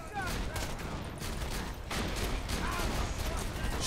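Shotgun fire in Borderlands 2 in a dense run of blasts and bursts, loud and continuous across the whole stretch with game noise layered around it.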